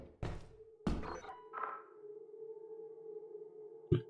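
A sentry turret in Lethal Company: a few sharp metallic thunks followed by a steady ringing electronic hum that lingers, then another short knock near the end, fairly quiet and with no talk.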